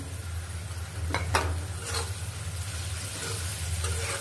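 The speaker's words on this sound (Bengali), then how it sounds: "এটা দিয়ে ভাজি করার সময় ফেনা ফেনা হয়ে যাবে।" Goat brain frying in a pan, with a soft steady sizzle, a few brief stirring scrapes near the middle and a low hum underneath, fairly quiet and without speech.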